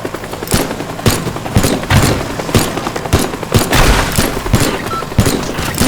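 Robots in the Teardown video game fire guns and rockets, producing rapid, loud, repeated sharp shots and booming impacts in a continuous barrage, with no speech.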